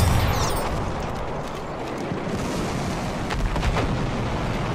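Machine gun fire rattles through a dense, noisy Battlefield 1 multiplayer battle, with rapid bursts and booming blasts blending into a loud, continuous roar.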